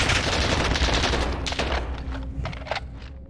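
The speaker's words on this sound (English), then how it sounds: "I'm gonna try using this gun." Rapid automatic gunfire from a weapon in the shooter game Warzone, a dense, loud, continuous rattle of shots that thins into a few separate cracks near the end, with no talking.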